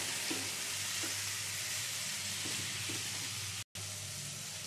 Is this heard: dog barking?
no